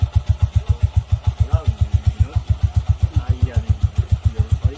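A motorcycle engine labours under a very heavy load on a steep downhill road, thudding in a fast, steady, loud pulse throughout, with some faint background sound over the beat.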